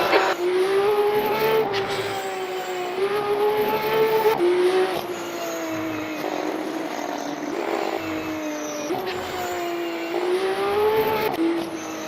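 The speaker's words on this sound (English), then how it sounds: "This car sounds amazing from the outside." Outside view of a race car in the Le Mans Ultimate game at COTA, the engine whining loudly and continuously, pitch climbing then dropping at repeated upshifts, with a brief skid-like hiss.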